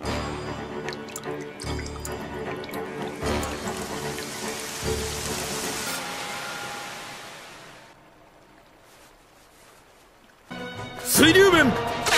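Anime water-release jutsu rain effect from Naruto: a dense hiss of falling drops and drizzle swells and fades over several seconds, followed by a brief burst of voice and sound effects.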